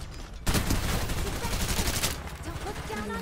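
Sustained bursts of gunfire in the battle-royale shooter Farlight 84 start abruptly and keep up as a dense, loud crackle of rapid shots, with a voice speaking briefly over the din.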